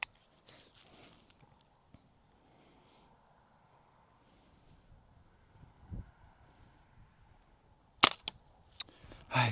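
A sharp gunshot at shooting practice cracks out near the end, followed by a second shot and a closing burst, after a quiet stretch with faint shuffling and wind; no speech.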